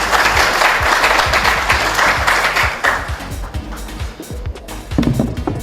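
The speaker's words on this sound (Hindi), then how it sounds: "आप सबकी भरपूर तालियों में मैं दावत दूंगा यासिर शामी को।" A dense burst of audience applause greets a motivational speaker at a speaking event, loud and full at first, then thinning into scattered claps with a short swell near the end.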